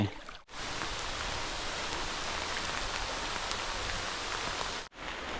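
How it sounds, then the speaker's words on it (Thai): Steady rain pours down onto surfaces outdoors near a stream, a dense even hiss that stops briefly near the start and again near the end. "ฝนตก"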